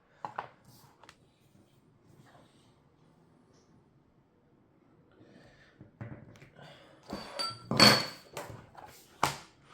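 Sparse, sharp taps at first, then a cluster of louder hammer strikes near the end, each a crisp close knock as a punch is driven through leather for a snap fastener on a wallet.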